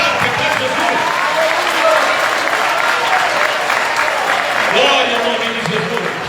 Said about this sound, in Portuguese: Você pode aplaudir o nome de Jesus nessa noite?